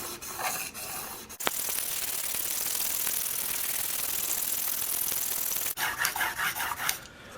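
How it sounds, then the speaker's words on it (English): A Sevr broadhead is rubbed across 1200 grit paper to sharpen it, a close, continuous raspy scraping held for several seconds, with short strokes and taps before and after. "I'm going to sharpen this side, get a burr"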